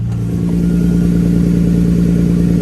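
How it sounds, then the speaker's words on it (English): A BMW E46 M3 engine turns over and settles into a steady, smooth idle, a low continuous rumble close by with no voices. "Look at how nice and clean that startup was."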